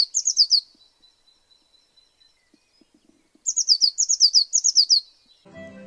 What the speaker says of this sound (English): Let's listen the sound of bluebird.